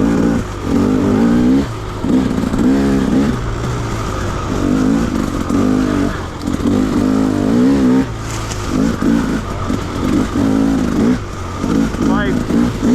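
A 2017 KTM 300 two-stroke dirt bike engine revs repeatedly in rough, pulsing bursts, loud and close, with a voice talking over it.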